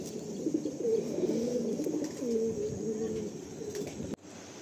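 Pigeons coo at a pigeon sale in Kolkata, a steady low burbling of several birds close by with chirps mixed in, continuing for several seconds before cutting off abruptly.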